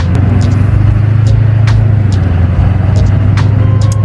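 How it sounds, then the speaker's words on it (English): An LB7 Duramax truck drives and shifts through its gears, giving a loud, constant low engine drone and road rumble heard from the cab, with brief clicks and rattles on top and no voices. "We're driving. Shifting through all the gears."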